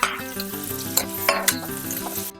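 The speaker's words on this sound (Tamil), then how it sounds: "நம்ம கட் பண்ணி வச்சிருக்க தக்காளியும் இதில் சேர்த்து வதக்கிக்கலாம்." Onions and tomatoes sautéing in a pan for a Chettinad-style mutton fry, a steady close sizzle broken by a few sharp clinks and scrapes of a spoon against the pan, with a faint melodic background.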